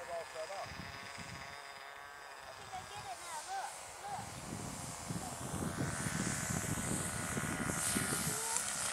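A radio-controlled model airplane flies in to land at a model flying field, its engine drone rising in the second half while people chat nearby.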